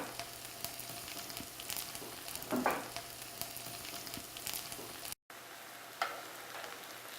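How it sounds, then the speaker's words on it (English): Tempeh strips sizzle in hot oil, a steady close frying hiss with a brief louder spatter as pieces go in and another flare later, no voices. "Once the oil is nice and hot, you can begin putting the tempeh strips in there"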